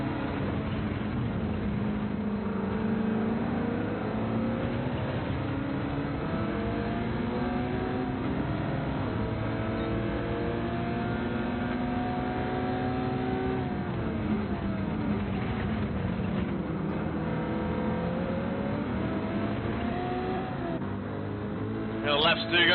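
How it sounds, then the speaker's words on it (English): A Corvette V8 in a V8 Supercars racing video game gives a steady low rumble, rising and falling with revs, under continuous commentary. "Hear that rumble of the Corvette."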